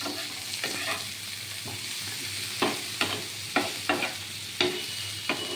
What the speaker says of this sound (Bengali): শুধু আদা, কয়েক কোয়া রসুন, একটু পেঁয়াজ, কয়েকটা কাজু বাদাম আর টমেটো দিয়ে এটাকে নেড়ে চেড়ে নিলাম